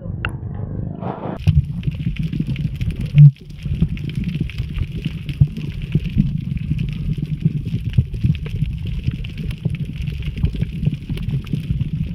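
A Mercury outboard boat engine runs steadily at a fishing tournament in Marinduque, a continuous low drone with water noise, heard close and fairly loud after a brief opening sound.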